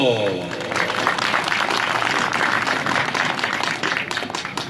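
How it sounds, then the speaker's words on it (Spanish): Audience applause at a Quechua poetry festival in Huayllabamba, a dense crowd of steady clapping that fades slightly toward the end, with speech over it. "La recibimos con un fuerte aplauso."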